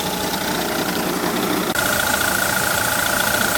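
A 1969 Ford Falcon wagon engine idles steadily up close, with a continuous rumble and light mechanical clatter; a brief break partway through leaves a slightly different, even idle with a whine.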